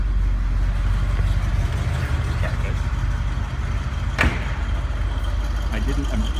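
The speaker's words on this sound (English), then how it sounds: "I did not do anything with the exhaust on the car" A car engine with an unmodified exhaust idles with a low, steady exhaust rumble, close by, with a brief sharp click partway through.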